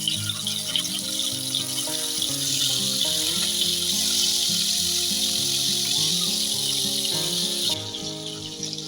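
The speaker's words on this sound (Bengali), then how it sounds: "চিংড়ি মাছগুলো ভেজে নেব, তাই তেল দিয়ে দিচ্ছি" Prawns frying in hot oil in a wok, a loud, steady crackling sizzle with bubbling spatter that carries on throughout and eases slightly at the end.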